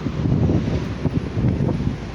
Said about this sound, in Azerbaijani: Biraz külək var.